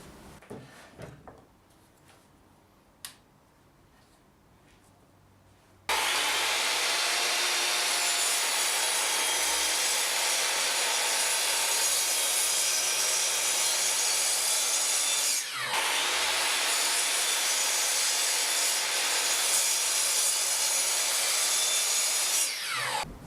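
Power tool trimming the edges of a wooden chopping board with inlay, a loud continuous whine running about seventeen seconds with one brief dip, after a quiet opening with a few faint knocks.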